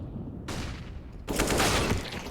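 Desert Eagle pistol fire in a professional Counter-Strike match: a short volley of gunshots followed by a louder, denser stretch of shots, fairly close over background game noise.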